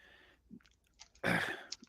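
Someone bites into and chews a Crispy Crunch chocolate bar, a peanut-butter brittle covered in chocolate. Soft mouth sounds come first, then a loud, close crunching bite.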